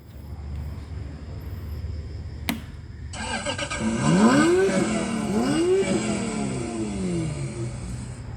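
A modified car engine starts with a sharp catch after a click, settles into a steady idle and then revs up twice in rising sweeps before easing back to a rumbling idle.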